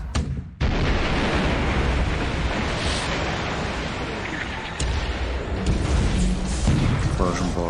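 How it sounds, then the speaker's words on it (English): A deep, sustained explosion booms below a ship's waterline in the naval strategy game War Plan Orange, a loud rumbling roar that rolls on for several seconds after a sharp onset. "Explosion below the waterline, perfect."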